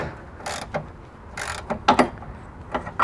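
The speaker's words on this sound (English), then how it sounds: "Grab your wrench. As you do this bolt up" Ratcheting wrench working a strut bolt on a Mitsubishi 3000GT front strut, bursts of clicking with short pauses between strokes, close and fairly loud, no talk.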